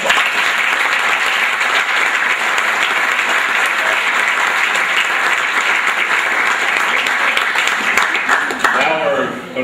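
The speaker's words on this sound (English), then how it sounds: "Big round of applause." Sustained, loud round of applause from a crowd at a senior sports banquet, steady and unbroken for nearly ten seconds before tapering slightly at the end.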